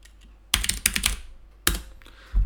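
Keys on a computer keyboard are struck in two quick bursts of close, loud clicks separated by a short pause, with no talking.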